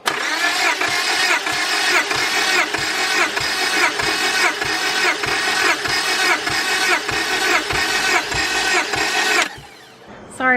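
A Honda Prelude engine cranks steadily without catching, a loud rhythmic starter churn that runs about nine seconds before cutting off into near silence.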